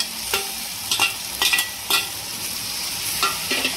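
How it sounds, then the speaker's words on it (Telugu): Chopped vegetables with green peas, potato and tomato for pav bhaji sizzle steadily in a pan, with several sharp scraping stirs of a spatula cutting through at irregular intervals, close and moderately loud. "ఇవన్నీ వెజిటేబుల్స్ని బాగా ఫ్రై అవ్వనివ్వాలి."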